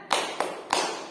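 Three sharp hand claps spaced evenly apart in a children's Tepuk Nabi clapping game, close and crisp with brief pauses between each clap.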